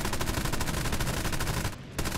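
Machine guns on a C.202 Folgore fighter plane in War Thunder chatter in a fast, steady, loud burst lasting nearly the whole moment, broken by one short pause near the end before firing resumes.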